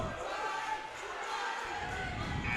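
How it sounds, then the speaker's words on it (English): A loud, sustained crowd roar fills a high school gym during a wrestling match between Sussex Central and Caesar Rodney, a continuous wash of cheering and shouting with a commentator talking over it. "you can hear the crowd, how electric it's been all night"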